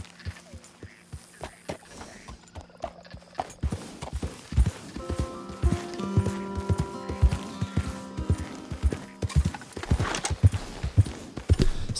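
Horse hooves clip-clop steadily on the ground while riding in Red Dead Redemption 2, close and continuous, with light harness jingle and brief tonal game sounds layered in the middle.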